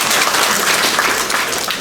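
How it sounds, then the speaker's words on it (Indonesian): A crowd of cooperative members at a gubernatorial opening ceremony bursts into sustained applause, loud and dense, a steady wash of many clapping hands. "Tepuk tangan buat kita semua."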